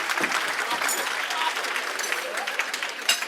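An audience at a live comedy show applauds, a dense, lively crowd clapping with faint voices mixed in under the claps.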